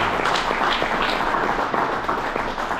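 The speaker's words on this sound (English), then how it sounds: "let's give Tom a round of applause." An audience at a concealed carry gun law seminar claps steadily, a dense, even round of applause from the room throughout.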